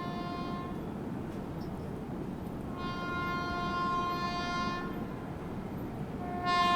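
The Sealdah–New Delhi Rajdhani Express rushes past at full speed to overtake, its long steady rumble overlaid by repeated sustained horn blasts, the last one loud and close.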